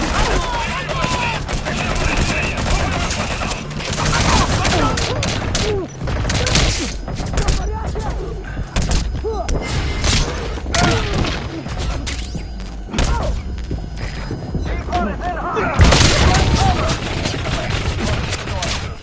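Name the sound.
gunfire and explosions in a PS4 video game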